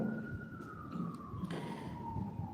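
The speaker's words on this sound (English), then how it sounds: "As the police siren goes off" A police siren wails steadily through city streets in the background, its pitch sliding slowly downward, over a low urban hum with scattered distant clatter.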